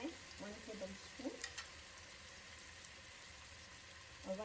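Turmeric, red chili powder and paprika frying in a pan for spicy potatoes, a steady soft sizzle with faint stirring scrapes, quiet and close.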